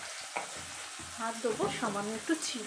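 Onions frying in oil with a little salt crackle and sizzle in a pan, with close stirring scrapes and bursts of spitting over a steady background of hot oil.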